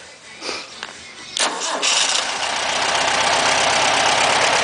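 A Volkswagen Beetle engine is cranked with a few short starter bursts, catches, and settles into a loud, steady air-cooled idle running close by.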